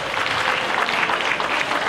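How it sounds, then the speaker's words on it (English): An audience at a conference gathering applauds with steady, dense clapping that fills the short moment at an even level. "Please give them a round of applause."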